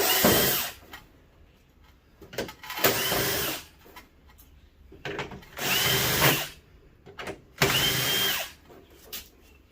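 A power drill backs screws out of an old CRT television in repeated whirring bursts of a second or so each, separated by quiet pauses and small handling clicks, close and loud.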